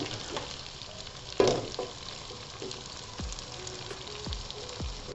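Cooked rice being stirred into a chicken Schezwan mixture in a hot pan, with a soft steady sizzle, a louder clatter of the spatula near the start and a few scraping strokes after, no talk.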